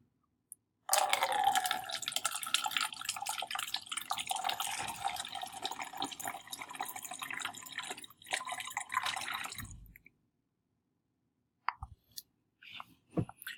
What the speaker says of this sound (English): Fill the container about a quarter full of water.